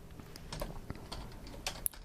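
Rapid typing on a computer keyboard while entering CSS code, a close, quick run of light key clicks with one sharper keystroke near the end.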